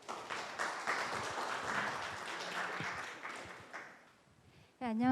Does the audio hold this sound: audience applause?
yes